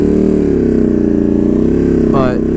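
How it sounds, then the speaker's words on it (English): A motorcycle engine held high in the revs while riding, a steady loud droning hum throughout with a brief rising whine near the end; someone talks over it. "the bike still runs good. It just likes to be high in the RPMs like this."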